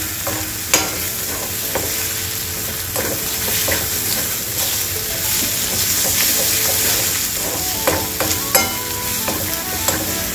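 Egg bhurji sizzling in a pan while being stirred, a constant close frying hiss broken by sharp clicks and scrapes of the spatula against the pan, with no talking.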